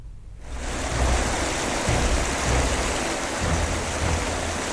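Flooded rivers in north Bihar rush as a loud, continuous roar of water that swells in after a brief quiet start and holds steady, with no voices.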